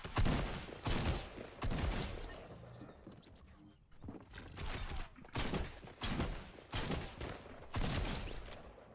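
Shotgun blasts in the video game Fortnite, fired as a rapid series of loud, sharp reports with brief gaps between them and a quieter stretch in the middle.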